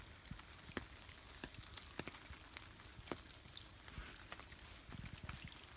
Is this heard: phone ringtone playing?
no